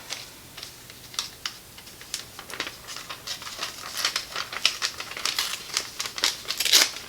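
Sheets of paper ripped apart by hand, a series of quick crisp tearing bursts in an irregular rhythm, close and fairly loud with no talking.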